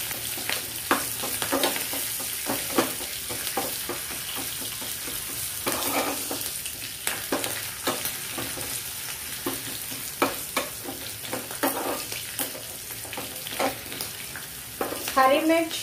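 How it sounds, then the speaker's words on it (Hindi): Curry leaves and green chilies frying in oil in a pan, a continuous sizzle broken by frequent sharp spatula taps and scrapes as the mix is stirred, no talking. "अब मैं इसमें ऐड कर दूंगी ये कड़ी पत्ता और हरी मिर्च, इसको हम थोड़ा अच्छी तरीके से फ्राई होने देंगे"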